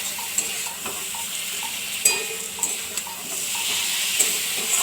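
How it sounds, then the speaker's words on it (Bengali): Boiled potatoes stir-frying with spices in a pan: a continuous close sizzle broken by repeated scraping and tapping of a spatula at an uneven rhythm. "সেদ্ধ আলুগুলোর জন্য এটাকে আবার ভালো করে ভেজে নিই"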